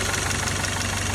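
A Volkswagen Polo GTI engine runs after repair, giving a loud, steady idle with a fast rhythmic rattling knock running through the drone, heard up close without talk.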